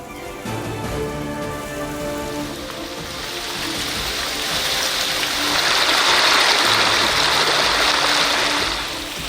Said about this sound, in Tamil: நெல்லையில் தொடரும் கனமழை காரணமாக குடியிருப்புகளுக்குள் சூழ்ந்த தண்ணீர்